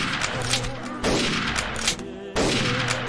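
Gunfire in a Mount & Blade: Warband WWII mod battle: a dense fusillade of rifle and machine-gun shots crackling continuously, with sharp louder bursts at intervals, mixed with faint shouting in the background.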